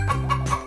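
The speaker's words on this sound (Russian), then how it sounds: "Курица." A brief cartoonish chicken clucks in a kids' wooden puzzle video game, a short burst of a few rhythmic clucks over a low hum.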